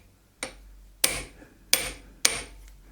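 A hammer striking a copper drift on a metal workpiece, four sharp ringing blows spaced roughly half a second apart, close and clear with no talk.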